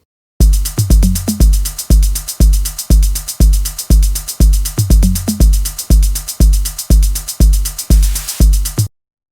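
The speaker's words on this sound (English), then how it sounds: "I've got a kick, hat and tom loop set up from the Aurora pack" Kick, hi-hat and tom drum loop from the Aurora sample pack, a steady repeating groove of punchy low kicks and crisp ticking hats with tom hits rolling in, loud and alone without any talking.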